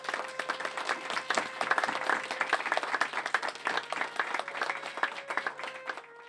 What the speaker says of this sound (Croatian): Još jedan aplauz za ove divne ljude.